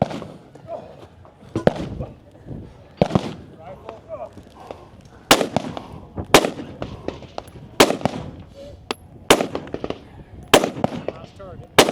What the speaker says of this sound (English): 10 shots with his rifle.